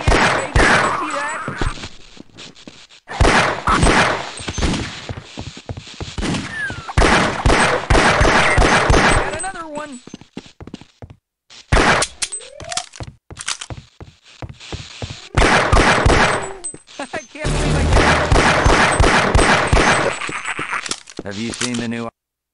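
Heavy bursts of gunfire in the Half-Life: Opposing Force video game, with rapid repeated shots arriving in clusters and short pauses between volleys, loud and close, while voices talk between and under the shooting.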